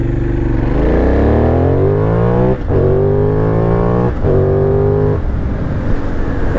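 Benelli 752S motorcycle engine revving hard, pitch climbing steadily toward 6000 rpm with two brief dips between gear changes, loud and close throughout with no talking.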